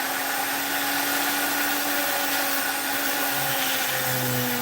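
A high-pitched Kutzall power carving tool whines steadily, its pitch wavering slightly as it grinds against wood, close by and with no voices.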